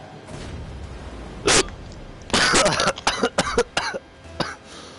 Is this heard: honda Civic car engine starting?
no